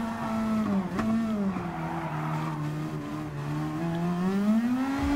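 Race cars circling Fuji Speedway in Gran Turismo Sport, a Nissan GT-R among them, with a steady loud engine drone whose pitch rises and falls through shifts, mixed with tire squeal, continuous for the whole stretch.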